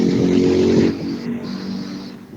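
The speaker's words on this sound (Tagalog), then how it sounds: "Maingay po yung sasakyan, mga motor." Cars and motorcycles pass on a street in Davao, heard through a phone line as a muffled, steady roar of traffic that softens near the end.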